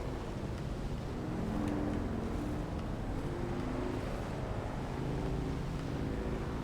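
A bike driving and drifting across terrain in Dune Awakening gives a continuous rough engine rumble with gentle surges, moderately loud and unbroken.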